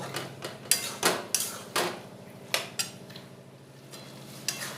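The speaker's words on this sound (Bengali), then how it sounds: "এবার মটরগুলো কিছুক্ষণ নাড়াচাড়া করে কষিয়ে নেব।" Peas cooking with spices in a pan for aloo motor ghugni are stirred, a spoon scraping and knocking against the metal in repeated close strokes over a soft background sizzle, with no talk.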